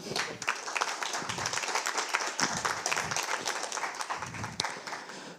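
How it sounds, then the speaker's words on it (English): Audience at a Berlin developer conference applauding a speaker's introduction, steady clapping from a moderately sized crowd that holds for several seconds before tapering off. "Round of applause for Ash, everyone."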